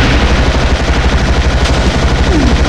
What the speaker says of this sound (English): they keep shooting me!